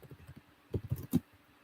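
Soft typing on a computer keyboard, a few scattered light taps followed by a quick burst of louder key presses, close by and not covered by speech.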